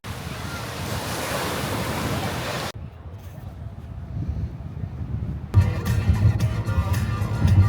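Ocean waves roll onto a Hawaii beach, a steady loud wash of surf with heavy wind noise buffeting the microphone; the sound cuts between takes, quieter in the middle and rougher with rumbling wind at the end.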